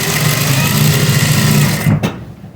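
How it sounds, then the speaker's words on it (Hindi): A sewing machine runs steadily and loud, stitching a triangle shape on an A-line palazzo pant hem, then stops abruptly near the end. "तो पहले त्रिकोण शेप में सिलाई करेंगे।"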